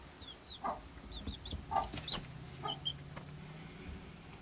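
Chickens cluck and peep softly nearby as they are coaxed up to a coop roost for the first time, short scattered calls over a quiet background with a faint low hum.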